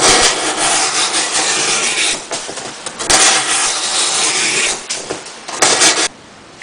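A knife blade (Spyderco, CPM S30V steel) slicing through two-ply cardboard after about 125 feet of cutting: loud, close scraping and rasping strokes in bursts of a few seconds each, separated by short pauses.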